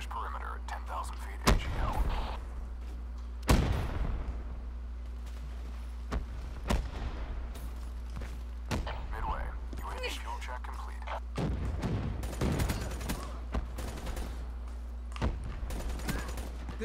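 Gunfire in a shooter game, a series of sharp separate shots spaced irregularly over a steady low hum, fairly close, with a cluster of quicker shots near the end, voices talking quietly between them.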